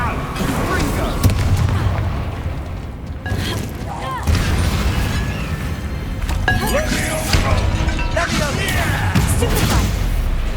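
Repeated Confringo blasting spells in Hogwarts Legacy, a run of loud booming explosions and cracking bursts in quick succession amid combat noise, with a voice talking over the action.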